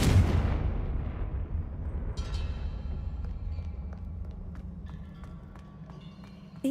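In the Hogwarts Legacy video game, a Confringo fire spell lands with a heavy booming blast that rumbles and fades over several seconds, followed by scattered small crackles and debris ticks.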